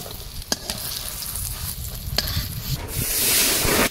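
Potatoes frying in oil over an outdoor riverside cooking fire, with a rough, steady sizzle that swells louder toward the end, broken by a couple of quick spatula knocks, and no talking.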